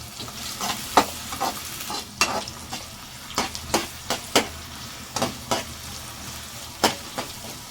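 Onions frying in two spoons of hot oil in a pan, stirred with a spatula in irregular scrapes and taps over a steady close sizzle.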